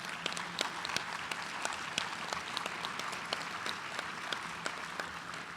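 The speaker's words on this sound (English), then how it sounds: "She needs a round of applause." An audience at a gala and hall of fame awards event applauds steadily, individual claps standing out sharply against the even patter of the crowd, heard from a moderate distance without talk.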